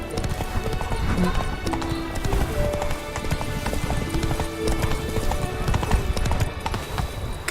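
Roach, Geralt's horse in The Witcher 3: Blood and Wine, gallops in a quick, steady clip-clop of hooves, close and prominent, with brief whinnies and tack noise mixed in.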